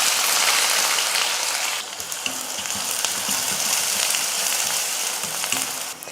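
Chopped onion hits hot oil already crackling with mustard seeds, fenugreek and curry leaves, giving a loud, steady close-up sizzle that softens slightly after the first couple of seconds, with no talking.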